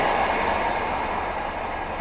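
An Indian passenger train rumbling past at a crossing, with a continuous loud roar of wheels and carriages at close range and no talking.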